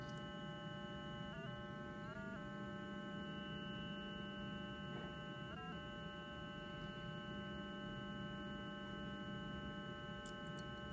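A circuit short finder tracer probes a Samsung motherboard, giving a steady, faint electronic tone. The pitch glides briefly upward a few times as the probe moves, over a constant low hum.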